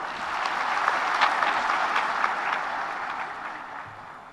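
An audience claps at an Environment Day and tree fair inauguration ceremony, producing a dense, steady round of applause that carries on for several seconds and tapers slightly at the end.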